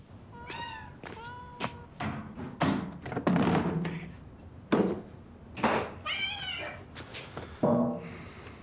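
A kitten about to be bathed meows repeatedly, a series of short, bright, rising-and-falling cries spaced irregularly, with a few soft thumps between them, close and fairly quiet.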